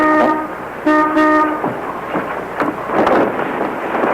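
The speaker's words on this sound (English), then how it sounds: "There's somebody honking the horn on your cab out there." Two loud, steady car horn blasts sound from a cab parked outside, one short and one longer, followed by a rushing, windy rumble of traffic-like noise with no talking.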